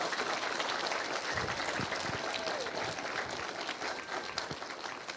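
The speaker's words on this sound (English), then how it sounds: "if you'd give them a round of applause for being here today" Applause from the audience at a literacy awards ceremony, honoring the family members present, a soft, distant wash of many hands clapping through the room with a few louder claps standing out.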